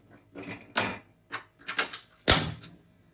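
Chopped vegetables, with water and chillies, go into a pressure cooker: a few separate clunks and metallic knocks of lid and vessel being handled, close and irregular, with short pauses between.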